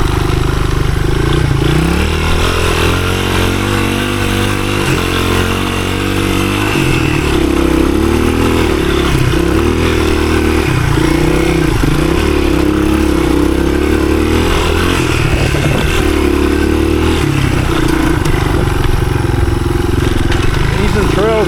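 A 1983 Honda XR200R, a small 15hp dirt bike, is ridden on woodland trails, its loud engine revving and dropping through gear changes and throttle bursts for the whole stretch, close up, with a voice talking over it at times.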